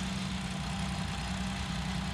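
A John Deere 5210 tractor engine running a super seeder during wheat sowing, a steady loud low drone with constant mechanical hum and no pauses.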